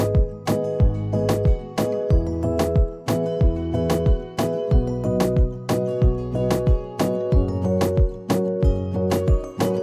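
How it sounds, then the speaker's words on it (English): A reggaeton drum pattern from a Studio One beat, with layered kicks and a second snare hitting in a steady, punchy loop, deep booming kicks under sharp snare cracks over a sustained musical bed, loud and without talk. "I brought in a third kick and a second snare, and they sound like this"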